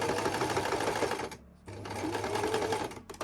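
Sewing machine stitching a handmade fabric soft toy duck, a fast close mechanical whirring run that stops briefly midway, then resumes and stutters at the end.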